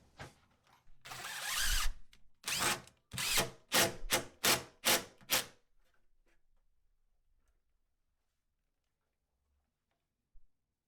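Screw driven through a shim to join two kitchen cabinets during an installation, a close series of short grinding bursts from the driver, pulsing about six times in quick succession, then near silence with one faint tap.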